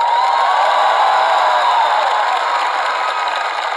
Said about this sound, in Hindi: और इस बात पे तालियां बज जाएं तो अच्छा लगेगा।